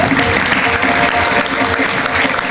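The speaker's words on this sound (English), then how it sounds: "Kindly clap once again for her." A school audience of parents and students at an award ceremony claps loudly and continuously for a girl receiving an extra award, close and dense applause with a faint murmur beneath.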